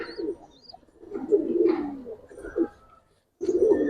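Giribaz and coloring pigeons coo in soft, low repeated bursts close by, with a short silent gap before another round of cooing.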